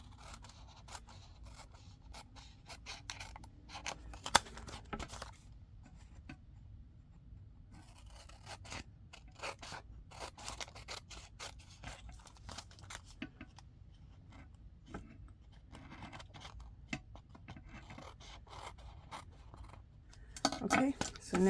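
Scissors snip and trim around junk mail paper in quiet, scattered clicks and short cutting strokes, close but faint, with soft paper rustles between cuts and a few louder snips near the end.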